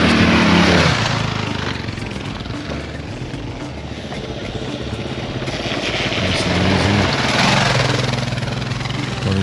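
Aprilia Tuareg 660 motorcycles riding off road near a riverbed, engines droning steadily and loud throughout, swelling as the bikes pass close, with wind buffeting over the sound.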